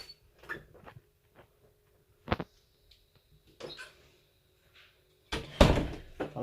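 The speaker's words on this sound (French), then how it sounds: "Je ferme la porte." Household door being closed during a Christmas Eve gathering at home, a few scattered knocks and clicks followed by a louder final thud of the door shutting, in an otherwise quiet room.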